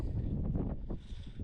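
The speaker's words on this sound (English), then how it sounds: "Oh, windy." Gusty wind buffets the microphone on a Scottish mountain, Ben Donich, with a low, steady roar, rising and falling over a second and a half, with no voices.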